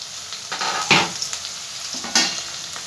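Bitter gourd and potato pieces frying in a pan, with a soft, close sizzle broken by two sharper, louder hissing bursts, no voices.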